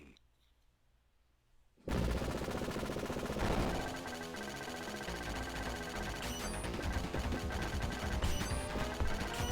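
Rapid gunfire in Contra Hard Corps on the Sega Genesis: after a quiet start, a sudden dense, continuous stream of fast clicking shots layered over loud game music.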